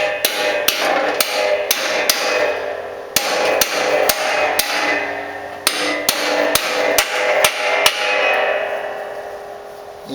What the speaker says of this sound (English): and just pound it in.